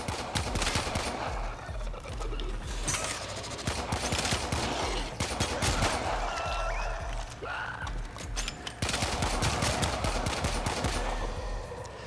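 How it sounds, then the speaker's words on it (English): Dual pistols in the Warframe video game fire rapid, dense volleys. Loud, nearly continuous shots come in bursts with brief gaps between them. No one speaks over the gunfire. "Yeah, double fisting these pistols seems pretty effective."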